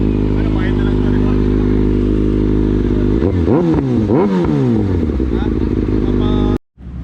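A Kawasaki ZX6R fitted with a new Orion exhaust, loud and close, idling with a deep steady drone, then revved in several sharp rising and falling bursts before cutting out abruptly near the end.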